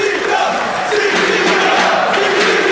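A wrestling crowd roars steadily after a piledriver through a table, a dense wall of cheering and shouting that holds loud and near for the whole moment.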